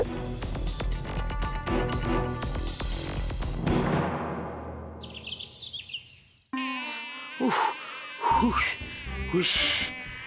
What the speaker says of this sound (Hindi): मच्छर बन के भिक्की बाबू का घर जाना कितना मुश्किल है मायरी